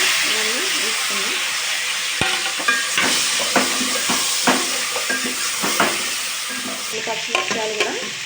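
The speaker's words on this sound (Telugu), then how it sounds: "అయితే ముందుగానే కట్ చేసి పెట్టుకున్నాం మునక్కాయ, దోసకాయ, టమాటా ఇవన్నీ వేసుకున్నాం" Drumstick pods, cucumber and tomato with turmeric fry in a pan with a constant sizzle, broken by repeated scraping and clinking stirs of a utensil against the pan.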